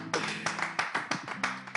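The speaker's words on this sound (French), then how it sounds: "on va applaudir le pasteur" A church congregation claps for the pastor in a short, steady run of roughly rhythmic hand claps, close and moderately loud, with a voice murmuring underneath.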